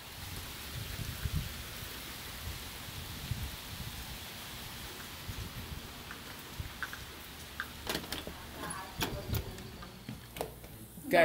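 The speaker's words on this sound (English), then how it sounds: "it's raining again really hard" Heavy summer rain pouring outdoors, a constant hiss of drops on surfaces and leaves, with sharper nearby spatters and knocks growing more frequent toward the end.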